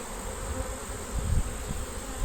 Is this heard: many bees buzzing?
yes